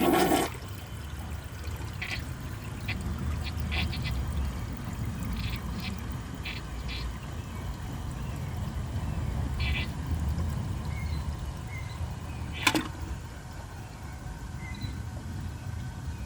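A 2018 WaterRidge one-piece toilet flushes with its button held down, a weak, steady rushing swirl of water running continuously at moderate level, with small clicks and a sharp tap near the end.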